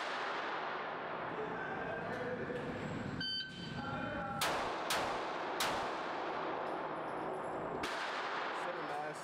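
A Glock pistol fitted with a Radian Ramjet Afterburner compensator fires several sharp, loud shots at an outdoor range, spaced about a second apart, each with a ringing metallic tail, over steady background noise.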